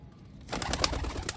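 A blue Malwain female pigeon gives a brief, low coo close by, a short soft burst after a moment of near silence.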